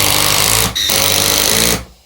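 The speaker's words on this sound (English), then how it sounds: "And my impact driver, or drill if you don't have an impact driver." Impact driver fastening two pieces of timber together for a shed storage ladder, a loud continuous buzzing whir with a brief dip partway through before winding down, close up with no talking.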